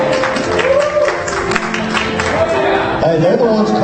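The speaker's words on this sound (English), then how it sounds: "Hey, they're the ones clapping." Church congregation clapping steadily in a dense, continuous wash, with crowd chatter and voices mixed in throughout.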